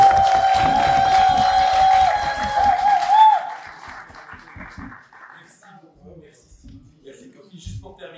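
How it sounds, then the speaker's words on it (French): A crowd applauds and cheers for the president of the Brussels Assembly at a concert announcement, a dense roar of clapping with a voice over it that fades into quieter room sound after a few seconds. "le président de l'Assemblée bruxelloise, que je vous demande d'applaudir"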